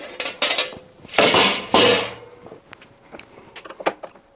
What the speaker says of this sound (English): we're going to take the back panel off and the lid off the machine